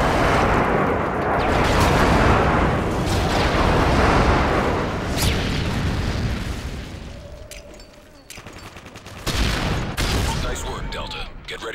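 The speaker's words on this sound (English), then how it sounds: "Delta airstrike on the way." Airstrike explosions in Modern Warfare 3 roll in as heavy, overlapping booms and rumbling blasts, loud and continuous at first. They thin into scattered sharp cracks and pops as the barrage fades.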